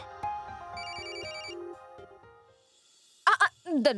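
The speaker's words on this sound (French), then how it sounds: "Quelqu'un essaie de nous appeler tout le temps." A mobile phone ringtone plays a melodic electronic jingle of repeated tonal phrases, close and clear, before it stops and brief voices are heard.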